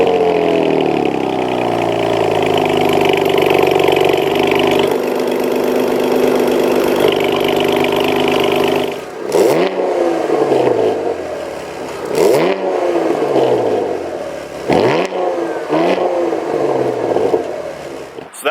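A 2019 Chevrolet Camaro 1LT RS with quad-tip active dual exhaust idles smoothly up close, then blips through several sharp revs that rise and fall in quick succession.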